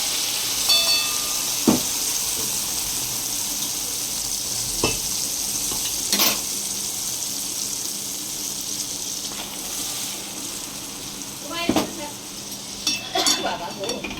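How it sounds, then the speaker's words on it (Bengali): Spice paste for a Bengali hilsa fish curry sizzles in hot oil in a wok, a steady frying hiss throughout with a few sharper spits and stirring clatters, close and moderately loud. "কড়াইতে তেলের মধ্যে পেস্টটা দিয়ে দিলাম।"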